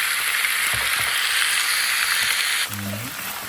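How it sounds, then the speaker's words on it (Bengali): Radish greens bhaji frying steadily in a pan, a continuous close sizzle with a few soft stirring knocks, the hiss dropping slightly near the end. "এখন আমি ভাজিটা বসিয়ে দিলাম আস্তে আস্তে হয়ে যাবে"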